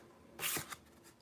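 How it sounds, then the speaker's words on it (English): A deck of tarot cards is shuffled once, a short, close riffling flutter that fades into a faint trailing rustle, with no voices. "Let me give this a little shuffle."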